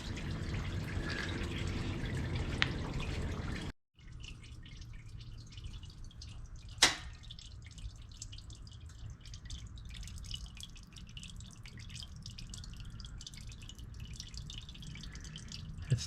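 Hot oil drains from an air-cooled Porsche 911 flat-six engine, a soft continuous liquid trickle and drip heard close, briefly cut off early and then resuming with one sharp knock.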